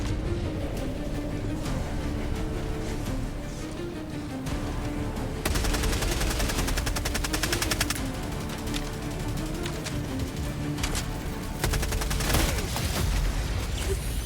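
Rapid gunfire from the video game Shadow Chain: Caladon, dense automatic bursts rattling almost continuously over a low game soundtrack, loud and close with sharper volleys toward the middle and end.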